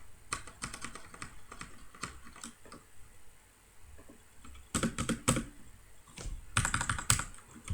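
Fingers type on a computer keyboard while someone works on Python code, with sparse clicking keystrokes breaking into denser bursts of rapid tapping, near and clear with no voices.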